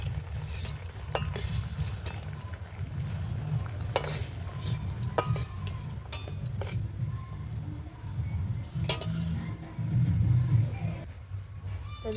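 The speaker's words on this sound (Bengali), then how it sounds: "একটা প্লেটের মধ্যে আলুগুলো সব তুলে নেব।" Boiled potatoes being lifted out and set onto a plate in a home village kitchen, with repeated clinks and scrapes of utensils against dishes over a steady low background hum, fairly close.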